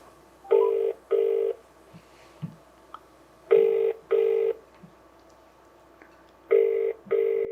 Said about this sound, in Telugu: ఒకసారి ఫోన్ కలుపుతాను